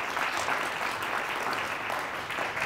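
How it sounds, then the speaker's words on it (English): A studio audience at a high school quiz bowl match gives a round of applause for the competing teams, dense and even clapping close by that carries on through the whole moment. "How about a nice round of applause for them?"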